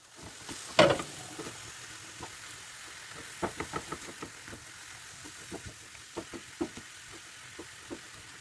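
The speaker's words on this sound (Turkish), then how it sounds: "Arkadaşlar kıymalarımı şöyle güzelce kavurdum." Minced meat with spices fries in a pan for içli köfte, a low sizzle broken by repeated scraping and stirring knocks from a utensil, moderately close.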